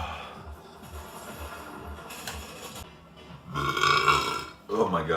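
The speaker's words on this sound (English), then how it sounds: "That was a crazy burp" A man burps loudly on command, with low throaty eructations rumbling through the first few seconds, then two louder, rougher belches near the end.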